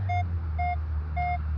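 Metal detector locking onto a buried target in playground wood chip, giving three identical short electronic tones at a steady rhythm over a constant low hum.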